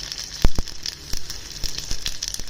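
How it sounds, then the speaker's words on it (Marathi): Mustard seeds and curry leaves crackle in hot oil, with sharp irregular pops, one especially loud near the start, over a constant bright sizzle, heard close up. "मोहरी चांगली तडतडली की कढीपत्त्याचे पानं 10-12."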